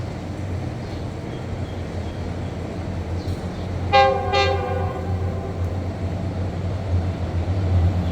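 A train rumbles past with a steady low roar along the trackside between Ratchaprarop and Phaya Thai in Bangkok, Thailand, and a loud two-tone horn sounds twice in quick succession midway through.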